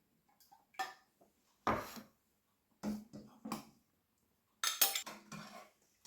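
Coconut cream being stirred into a pot of shiitake mushroom soup, a handful of separate spoon clinks and scrapes against the pot in short bursts with silent gaps, close and fairly soft.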